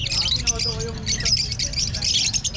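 Caged birds squawk and chirp in shrill bursts at the Obando pet market, fairly close and continuous, while someone talks over them.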